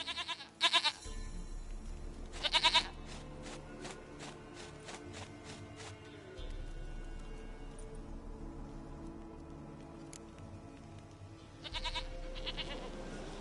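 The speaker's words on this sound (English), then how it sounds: "Goat of mine, dearest, sweetest goat." A goat bleats loudly several times in a rural scene of The Witcher 3: Wild Hunt. The calls come in close, wavering bursts over game music and ambience, with another bleat near the end.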